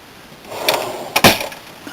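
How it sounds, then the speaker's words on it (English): A cutlery drawer in the kitchen of a Peugeot Boxer Autocruise Vista motorhome slides and clatters twice, with a rattling knock of utensils, close and without talk. "We have a cutlery drawer."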